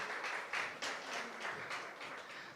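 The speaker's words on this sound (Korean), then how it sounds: "박수해 주시기 바랍니다." Applause from a church congregation during a combined small-group worship service, a steady wash of many hands clapping at moderate distance that continues without a break through the whole stretch.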